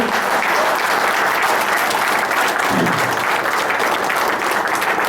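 Loud, sustained audience applause in a seminar hall, dense clapping from a seated crowd holding steady throughout with a faint voice briefly surfacing midway.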